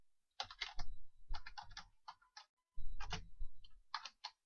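Text is typed on a computer keyboard in quick, close bursts of crisp key clicks, with a short pause between two runs of typing.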